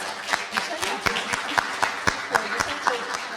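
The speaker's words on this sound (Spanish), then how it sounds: "les pido un aplauso a nuestras 2 invitadas" Audience applause for two guest speakers at a science talk, moderate clapping with distinct rhythmic claps standing out, lasting a few seconds.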